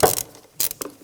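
A ratchet fitted with a 10mm socket works a bolt loose on a 1996–2002 Toyota 4Runner engine, giving a few short, close clicking bursts separated by quiet gaps.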